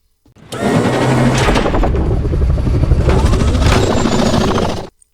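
A loud aircraft turbine roars in a Captain America: The First Avenger film scene, a dense churning whir that starts abruptly, holds steady for several seconds and cuts off sharply.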